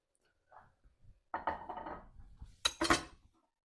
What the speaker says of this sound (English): Lid goes on